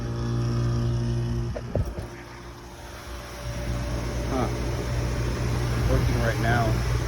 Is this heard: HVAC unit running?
yes